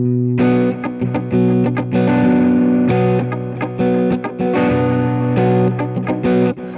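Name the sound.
electric guitar through stereo rig delays, chorus effect off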